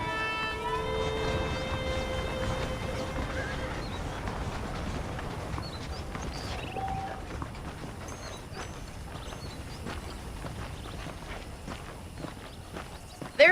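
Horse hooves clip-clop steadily on the ground in the Western video game Red Dead Redemption as saddled horses move along, a continuous moderate rhythm of footfalls with faint background tones.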